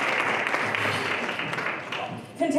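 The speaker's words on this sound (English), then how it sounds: "Can we please give him a round of applause?" Audience at a business roadshow panel discussion gives a round of applause, moderately loud, steady clapping that thins out before a voice begins speaking at the very end.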